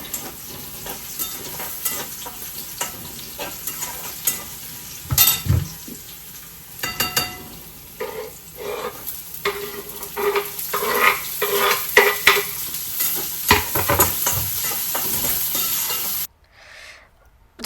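Oil sizzles and crackles steadily as tempering spices fry, with a spoon stirring and scraping the pan now and then before the sound cuts off.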